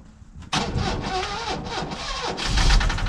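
Cavalier Diplomat 8-valve engine cranking briefly and then catching, settling into a rough idle that revs up slightly toward the end, heard close and alone.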